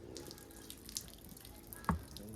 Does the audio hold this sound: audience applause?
no